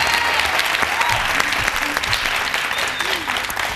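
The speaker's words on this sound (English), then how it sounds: "A round of applause for leader 4," A studio audience gives a steady, loud round of applause for a contestant after a televised leadership debate, with dense clapping throughout and a few faint voices mixed in.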